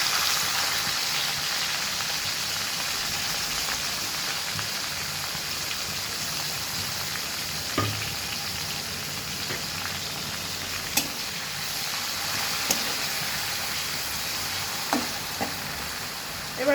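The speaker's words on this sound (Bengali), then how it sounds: "এবার আমি জিরে, শুকনো লঙ্কা আর তেজপাতা ফোড়নে দিয়ে দিলাম" Cumin, dried red chillies and bay leaves sizzle steadily in hot oil for an egg kasa, a dense continuous frying hiss with a few sharp pops and crackles scattered through, close and unbroken by talk.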